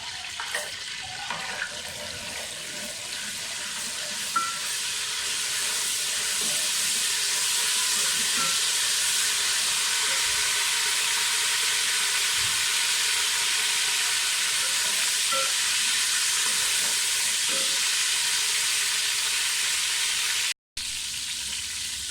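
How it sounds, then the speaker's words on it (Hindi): Whole spices sizzle and crackle in hot oil for chicken biryani, a steady close, loud frying hiss that builds over the first few seconds and holds, with scattered pops and a brief dropout near the end. "ऑयल हमारा गर्म हो गया है। सबसे पहले इसमें साबुत मसाले डाल दें।"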